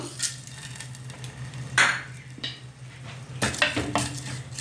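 Urad dal, mustard seeds, cumin, dried red chillies, curry leaves and garlic tempering in hot oil crackle and sizzle, with spoon scrapes and clinks of a pan breaking through a low steady hum, close by.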